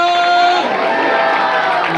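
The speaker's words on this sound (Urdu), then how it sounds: "زوردار تالیاں یسوع کے لیے" A church congregation at an Urdu sermon breaks into loud cheering and clapping after a brief voice, a dense crowd roar that fills the rest of the moment.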